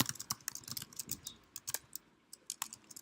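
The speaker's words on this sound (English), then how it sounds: "if I start typing a comment here" A comment is typed on a computer keyboard in quick, close, crisp keystroke clicks that come in bursts and short pauses, with no talking.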